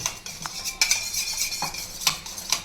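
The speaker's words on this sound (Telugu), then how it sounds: "దీన్ని చక్కగా ఉండలు లేకుండా మంచి స్మూతీగా అయ్యేలాగా స్పూన్తో కలుపుకుంటున్నాను" A spoon stirs curd in a glass, giving quick close clinks and taps against the glass in an uneven rhythm, with a soft scraping swirl between strikes.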